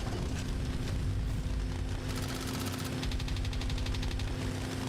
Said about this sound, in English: Jeff, bring out the vortex cannon, will ya?